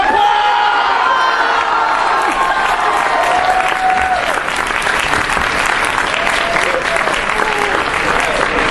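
A convention audience at a Klingon play claps and cheers enthusiastically, with whoops and shouted voices rising over sustained loud applause that carries on for nearly nine seconds.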